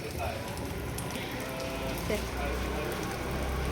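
Steady rain falls outdoors as a parent gets a child into a raincoat for school, a continuous broadband patter that stays loud throughout, with voices talking over it.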